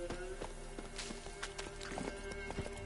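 Horse hooves clip-clop in an irregular trotting rhythm with a faint snort, set over a steady synthetic backdrop, in the video game The Witcher 3.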